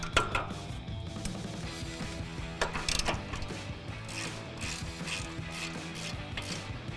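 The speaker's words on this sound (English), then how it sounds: "we'll tighten our control arm down with our 22 millimeter socket" A ratchet with a 22 mm socket tightens the front upper control arm on a Ford F-150 truck, giving rapid clicking and metallic clinks close up over a constant mechanical hum.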